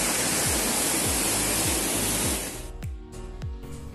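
Pandavkada waterfall near Kharghar, Navi Mumbai, a dense, loud roar of falling water heard up close for most of the time, then thinning toward the end, with a few thumping knocks beneath it and no speech.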